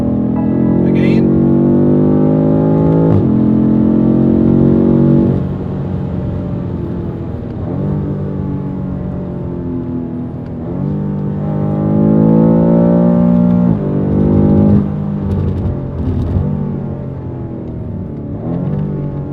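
A BMW F90 M5 with four-wheel drive is driven hard through curves, its engine and exhaust a loud, steady droning rumble that rises and falls with revs. Someone talks over it the whole time.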